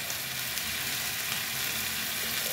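Sweet potato leaves sautéing in a pan with soy sauce and oyster sauce, giving a steady, close sizzle of frying with faint stirring, no voices.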